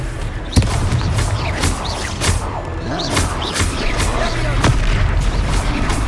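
Confringo fire spell from Hogwarts Legacy bursting in a series of loud, booming explosions with sharp thuds, repeated throughout over steady game-battle ambience.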